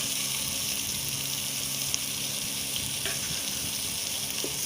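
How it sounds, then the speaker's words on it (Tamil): Tomatoes sautéing in a pan while sambar is being made give a steady, close sizzle and hiss that holds at an even level throughout, with faint scrapes now and then and no talking. "நல்லா வதக்கி விட்டுக்கோங்க."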